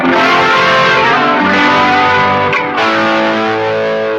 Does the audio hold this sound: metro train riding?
no